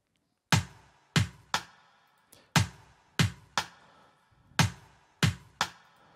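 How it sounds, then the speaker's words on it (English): Sharp programmed rim shots with an extra percussion hit in an Afro House beat, about nine crisp isolated strikes in a loose syncopated pattern, dry and clear with no kick or voices. "if I switch off the kick for now so that you can hear the rim shots alone"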